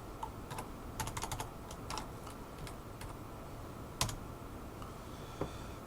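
Quiet, irregular clicking of keys being typed on a computer keyboard, with a few sharper taps, in a soft hiss and no voices.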